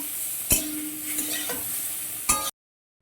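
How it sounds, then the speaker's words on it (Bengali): Eggplant pieces fry in oil in a pan while a spatula stirs them, giving a steady sizzle broken by two sharp scraping clacks of utensil on pan before the sound cuts off. "বেগুনগুলো একটু নাড়িয়ে টাড়িয়ে ভেজে নিচ্ছি"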